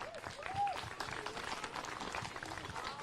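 A crowd claps steadily in dense applause throughout at a historical marker dedication for Alfred Day Hershey, with a few faint voices and a brief whistle near the start.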